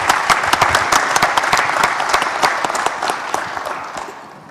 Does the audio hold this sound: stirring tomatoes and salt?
no